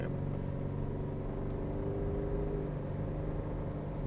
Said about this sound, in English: I have been getting used to the sound of a 4-cylinder in this 4Runner